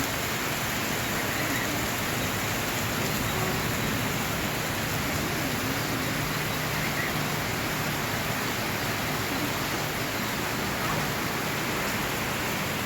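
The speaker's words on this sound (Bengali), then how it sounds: "ভালো হয়েছে বৃষ্টিটা হওয়ার কারণে অনেকদিন ধরে বৃষ্টি হয় না" Steady, even rain falls throughout, a dense continuous hiss of drops with no breaks and no speech, in a rural village setting.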